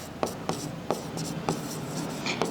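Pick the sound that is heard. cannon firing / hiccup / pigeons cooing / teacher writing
teacher writing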